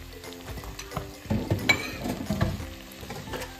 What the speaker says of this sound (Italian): Adesso la pasta è pronta e andiamo a saltarla nella nostra salsa.